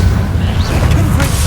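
A Confringo blasting curse explodes in the Hogwarts Legacy video game, giving a loud, sustained, rumbling boom that fills the short moment with dense low-end energy.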